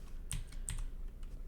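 A computer keyboard is pressed in quick rolling bursts while playing a speedrun game, two clicky clusters of keystrokes close to the microphone, followed by faint lighter taps.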